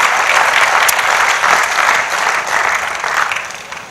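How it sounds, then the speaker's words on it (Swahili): Church congregation in Tanzania clapping in thanks, loud, close applause from many hands that swells and then gradually thins toward the end. "Mpe Bwana makofi ya shukrani"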